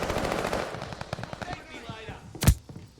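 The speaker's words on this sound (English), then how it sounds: "Tossing grenade!" Rapid video-game gunfire rattles in bursts under a voice, then a single sharp, loud grenade blast cracks near the end before a brief fading tail.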